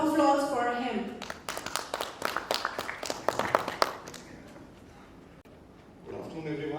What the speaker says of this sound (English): Round of applause for him.